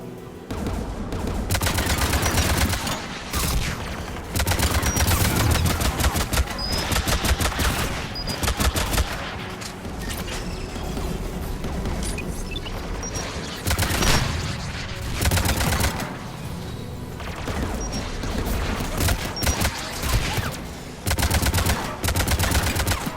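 The Geth anti-aircraft guns in Mass Effect 3 fire in loud, sustained bursts of rapid shots, with repeated heavy volleys and short pauses over a continuous mechanical din.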